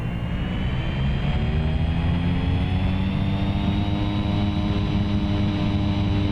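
Airplane engine in X-Plane 11 rising to full takeoff power, a steady loud drone with harmonic tones climbing in pitch, continuous with no talk.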